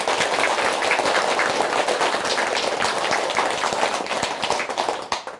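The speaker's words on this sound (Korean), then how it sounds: "큰 박수 한번 부탁드립니다" Audience at a Buddhist temple event in a South Korean temple breaks into dense, steady applause of many hands clapping together, sustained for several seconds before it starts to thin, with no speech.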